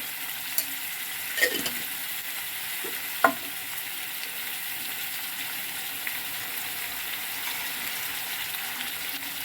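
A pan of drumstick and jackfruit seed curry with fried onions, turmeric and tamarind leaves is stirred over a steady low sizzle, with a few distinct scrapes and knocks of the spoon against the pan.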